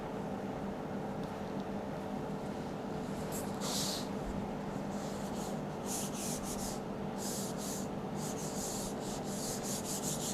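Fondant being smoothed and pressed by hand onto the side of a square cake, a soft steady rubbing with several brief brighter brushing swipes over a constant background hum.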